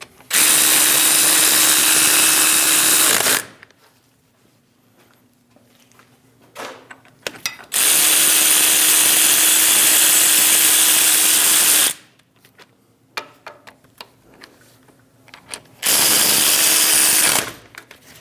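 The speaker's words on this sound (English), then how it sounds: "Snug the bolts down." Power tool snugging wheel hub bolts on a 2001-2006 Chevrolet Silverado front hub assembly: three loud sustained whirring bursts of about three to four seconds each, separated by quieter clanks and shop noise.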